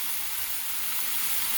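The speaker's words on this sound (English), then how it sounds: "Not to the point that I'm deep frying these, but enough that it gets them sizzling and everything like that." Shrimp sizzle in a thin layer of oil in a pan for a light stir-fry, a steady, loud hiss that fills the moment without any talking.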